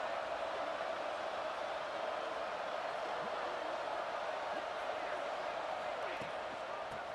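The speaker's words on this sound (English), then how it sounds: "This crowd is trying to inspire this defense to make a big red zone stop." A football stadium crowd roaring during a Washington State versus Arizona State college game, a dense continuous wash of noise holding steady and loud from start to finish.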